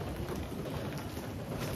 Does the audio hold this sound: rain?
yes